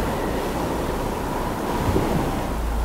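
Ocean surf crashes against coastal rocks below a cliffside path, heard as a steady, broadband roar of waves mixed with wind noise, with no voices.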